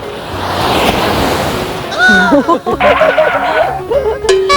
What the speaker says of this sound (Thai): เออเฮ้อคลื่นซูซามาก